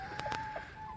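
Hens cluck in a backyard flock, a few short, quiet clucks close together early on over a low steady background, with no voices.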